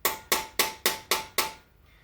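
Six sharp, evenly spaced metal hammer strikes drive freeze plugs into a Ford 428 engine block from a 1964 Galaxie 500, each hit ringing briefly before the next, close up and clear, ending in quiet.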